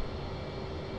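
A jet aircraft engine in the DCS combat flight simulator during a carrier approach, a loud, dense, continuous roar with broadband hiss, heard alone for about a second.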